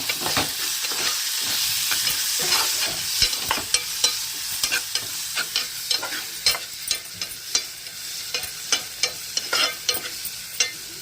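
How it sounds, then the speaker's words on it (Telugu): Steady sizzling of tomato pieces frying in a pan, with repeated scraping and stirring clicks growing more frequent toward the end. "వేగుతూ ఉన్నాయి టమాటా ముక్కలు"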